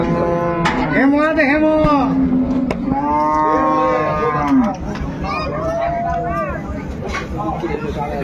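Dairy cows and calves moo loudly and repeatedly at a busy rural livestock market in Raniganj, Dinajpur. The long, drawn-out calls overlap one another above a steady crowd murmur.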